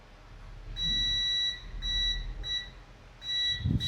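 A multimeter in continuity beep mode tests capacitors on a Redmi 10 5G phone board, giving several sharp high electronic beeps of varying length with short gaps, close and clear over faint background noise.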